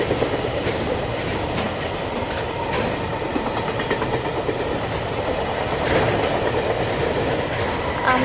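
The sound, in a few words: Mitali Express passenger train running on rails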